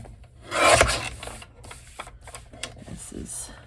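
Folded paper for a craft journal is trimmed close by, with a loud scraping cut burst followed by lighter scratchy rasps and taps, while a person talks throughout.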